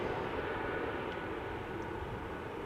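Sky Express A320neo jet departing from Schiphol's Polderbaan runway, a steady broadband engine roar that holds loud and even throughout with no voices.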